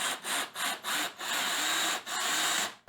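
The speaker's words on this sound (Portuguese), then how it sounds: "primeiro então eu vou fazer o furo nessa daqui" A screw is driven straight into wood without a pilot hole during a woodworking job, giving close, loud grinding bursts in a quick pulsing rhythm that merge into a steady rasp before cutting off abruptly. No one talks.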